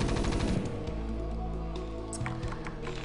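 A StarCraft Marine firing at a Zergling in a video game match, heard as rapid, continuous rattling gunfire. Busy game effects and thuds sit beneath the shooting, which runs loud and steady throughout.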